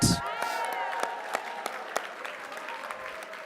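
A gala audience claps for the premier sponsors, brisk scattered hand claps with distinct sharp hits, a loud burst at the very start, then steady clapping.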